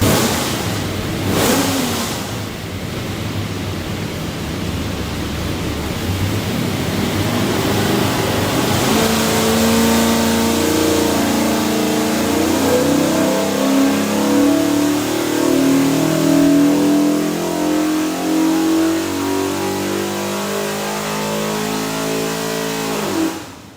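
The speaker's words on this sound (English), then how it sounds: "We just got the dyno set up to run it." A carbureted 347ci small block Ford V8 for a Fox Body Mustang makes a dyno pull. It idles roughly, then revs up loud and close, its rising roar climbing steadily and held to the end.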